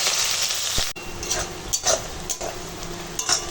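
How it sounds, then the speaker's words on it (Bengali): Sliced onions and green chillies sizzle steadily in hot oil with bay leaf, loud and close, while a spatula stirs and scrapes the pan now and then. "আর দিয়ে দেবো কেটে রাখা পেঁয়াজ আর কাঁচা লঙ্কা পেঁয়াজটা ভেজে নেবো"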